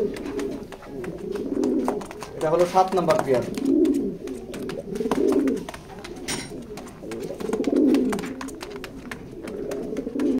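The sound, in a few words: pigeons cooing in a pigeon loft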